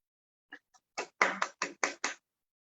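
A few people clap sparsely in a welcome for a guest speaker, about six separate claps, close and distinct, that fade quickly into silence.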